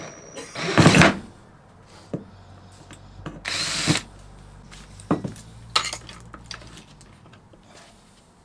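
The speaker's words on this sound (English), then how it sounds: "We're now going to try and drill that out and see how that goes." A power drill bores holes through a metal swivel seat plate for an LT35 camper van in two short whirring bursts, with clanks and metallic taps of tools and parts between them, close by.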